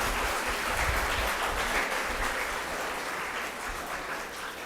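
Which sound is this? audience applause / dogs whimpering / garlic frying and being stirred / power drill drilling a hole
audience applause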